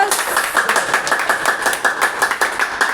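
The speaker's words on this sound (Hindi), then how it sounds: "ऐसे महापुरुष के लिए हम चाहेंगे एक बार जोरदार तालियां।" An audience applauds with brisk, steady clapping for several seconds, a crowd of hands at moderate loudness with a voice partly heard over it.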